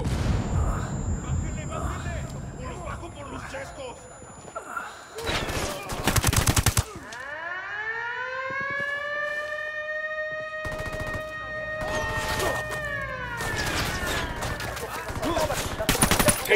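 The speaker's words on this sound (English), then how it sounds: "Opening fire on these shitheads." Automatic gunfire bursts and explosive booms in the tactical shooter Ghost Recon Wildlands, loud and close, with sharp volleys around a mid-clip blast, over game music and radio chatter.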